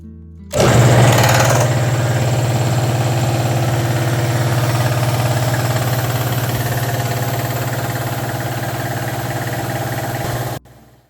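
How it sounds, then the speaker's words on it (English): An Alkin W31 Mariner air compressor runs steadily and loud after starting up, its motor drone carrying a slight belt whine, then it cuts off near the end. "the noise on the motor makes a little bit more, and that's actually the belt that's making the noise just a little bit"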